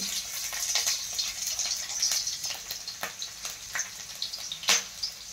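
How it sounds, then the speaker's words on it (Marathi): Curry leaves, garlic and green chillies fry in hot oil as a tempering for besan zunka, producing a close, steady sizzle with frequent sharp crackles and pops and one louder spatter near the end. "आता मी कढीपत्ता टाकत आहे, लसूण टाकून घेत आहे, हिरवी मिरची टाकून घ्यायची आहे"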